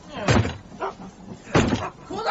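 Police force open a suspect's door in a radio drama, producing two heavy bangs about a second apart, each followed by quieter rattling.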